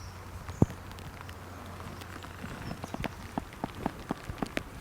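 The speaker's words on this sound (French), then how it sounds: "Et il pleut de plus en plus." Rain falls steadily on a lake in Vendée, heard from a float tube during a fishing trip, as a soft continuous hiss with scattered nearby drop taps and light patter growing more frequent.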